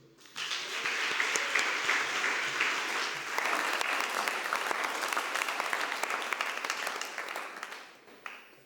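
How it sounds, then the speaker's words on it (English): Sustained applause from an audience at a public speaking competition in Mauritius, dense clapping that swells, holds for several seconds, then tapers off. "A round of applause for you"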